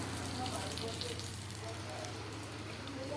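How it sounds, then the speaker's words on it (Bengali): Oil poured into a hot kadai already holding oil, giving a steady, even sizzle that carries on without a break, with a low hum beneath it. "কড়াইতে তেল আছে, তাতে আমি তেল দিচ্ছি"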